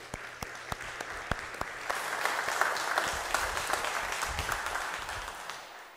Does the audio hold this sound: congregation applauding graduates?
yes